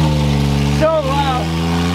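A Smart car with a loud, disconnected exhaust rumbles close by with a steady low drone, and a brief voice cuts in partway through.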